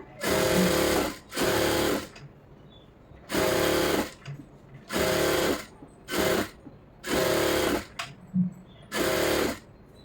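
Sewing machine stitching lining onto a blouse, running in about seven loud, rapid mechanical bursts of roughly a second each, separated by short pauses.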